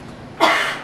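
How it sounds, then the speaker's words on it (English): A single cough into a Petri dish through a cloth mask, a sharp broadband burst after a quiet moment that trails off briefly, close and fairly loud. "Can I cough into that?"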